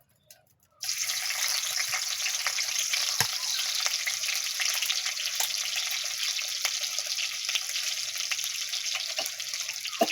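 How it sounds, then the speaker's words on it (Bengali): Chopped onion hitting hot oil in a pan sets off a loud, steady hiss and sizzle that starts abruptly and carries on evenly, with faint crackles and no voices. "তেল দিলাম একটু পেঁয়াজ কুচি দিলাম"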